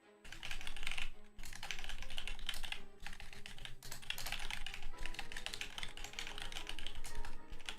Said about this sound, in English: I'm hating my keyboard at the moment. My keyboard keeps double tapping stuff.